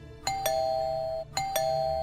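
A doorbell chimes a two-note ding-dong twice in quick succession, clear and close, each tone ringing out briefly before the next.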